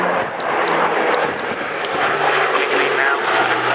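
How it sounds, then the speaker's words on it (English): Airbus A400M military transport aircraft in clean configuration making a fast, low high-speed flyby at an air show, a loud steady propeller-turbine roar, with a commentator talking over it. "Fully clean now, accelerating 260 knots, fast high-speed flyby."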